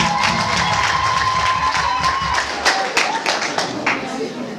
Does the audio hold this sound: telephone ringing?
no